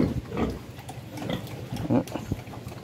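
Pig on a farm grunting in short, low, irregular snorts during semen collection, close up, with some background noise.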